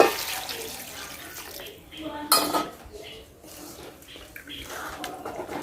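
Water poured into a stew pot of meat in a home kitchen, splashing and sloshing amid clinks of cookware, close and moderately loud with a sharp burst midway.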